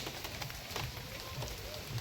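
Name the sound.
light drizzling rain in a village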